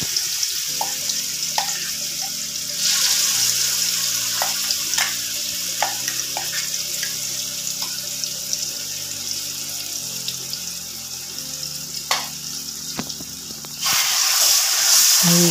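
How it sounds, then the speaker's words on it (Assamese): Ground Indian olive paste hits hot oil with cumin in a pan, giving a steady sizzle and hiss over a low background hum; the frying grows louder near the end, with no talk. "এয়া মই পিচি লোৱা জলফাইখিনি ইয়াতে দি লৈছোঁ"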